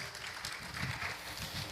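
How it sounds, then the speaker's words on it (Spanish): A church congregation applauds with a steady wash of clapping that holds at an even, moderate level throughout, with no voices standing out. "Dale un fuerte aplauso al Rey de Reyes y Señor de Señores"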